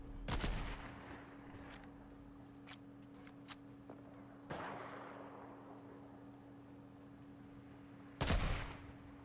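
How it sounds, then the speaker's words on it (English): Faint, distant gunshots in a Fortnite match, a few sharp isolated cracks spaced several seconds apart over a steady low hum, with no talking. "we got guys across yonder shooting at us too"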